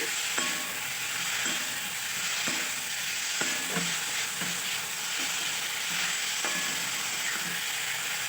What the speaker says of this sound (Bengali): এরপর আলু আর ফুলকপিটাকে খুব ভালোভাবে আমি মশলার সাথে কষিয়ে নিচ্ছি